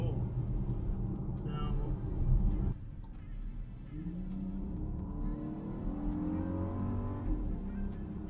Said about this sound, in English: You really have to put your foot down in order to get the car to go.